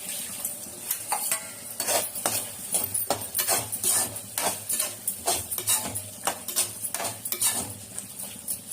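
Mutton gravy stirred in a pan with a metal spoon: repeated rhythmic scraping and clinking strokes, about one every half second, over a faint background sizzle.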